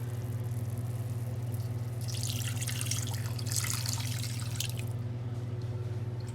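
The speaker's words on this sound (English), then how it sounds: "And now, the slurry goes in." A cornstarch slurry is poured into a pan while cooking a Cantonese shrimp and egg scramble, making a brief liquid splash and trickle over a steady low background hum, with no talking.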